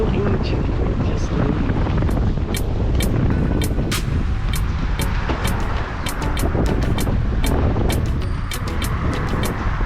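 A sailboat moves under sail with no engine running, with strong wind buffeting the microphone and water rushing past the hull, and repeated sharp ticking or flapping sounds.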